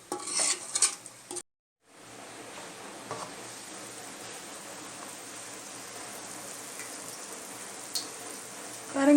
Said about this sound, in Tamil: பாருங்கள் நல்லா சூப்பராக எப்படி கொதிக்குது பாருங்கள்